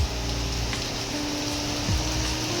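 Steady rain falling during a wet season, a dense, even patter heard close with a constant wash and a faint low hum underneath, with no voices.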